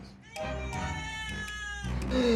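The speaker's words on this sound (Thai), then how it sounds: "ขออภัยในเสียงแมวด้วยนะครับ" A cat meows several times in a kitchen while a Caesar salad is being made, the calls rising and falling with quiet background sounds and a brief voice in between.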